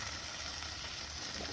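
A bread omelette fries in a pan, a faint, steady sizzle close by with no voices over it.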